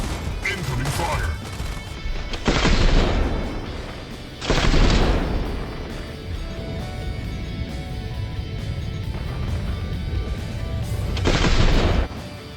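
Incoming gunfire in a video game, with several loud bursts of shots and crashes breaking over a steady background din, while a voice talks through parts of it.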